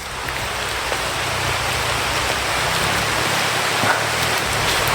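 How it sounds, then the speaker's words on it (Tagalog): Heavy rain pours down steadily outdoors, a dense, unbroken hiss of drops hitting surfaces at constant loudness with a faint low rumble beneath and no voices. "Kaya sobrang lakas ng ulan."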